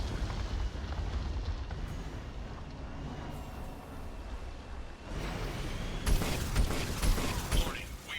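A huge explosion in the video game Mass Effect 2, set off after a Geth cannon is taken over: a dense, continuous low rumble that swells into a louder, brighter blast roar near the end, with faint talk mixed in.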